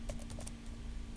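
Computer keyboard keys tapped while entering a folder path on a Windows PC, a short run of about five quick, light clicks over a steady low electrical hum, then fading to background hiss.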